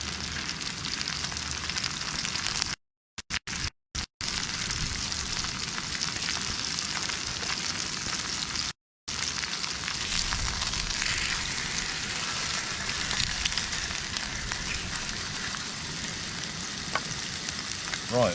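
Steaks and potatoes fry in a pan outdoors, a steady loud crackling sizzle that runs throughout with brief dropouts and no talk.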